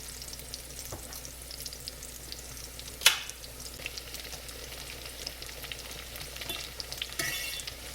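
Onion sizzles in a frying pan with a steady crackling hiss, plus an occasional clink of a utensil stirring, heard close with no talking.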